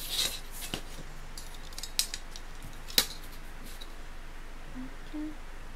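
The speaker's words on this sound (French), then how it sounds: "Donc là, je vais couper." Scissors snip through paper for a Halloween cat card in a few quiet, separate cuts spread over several seconds, close by in a quiet room.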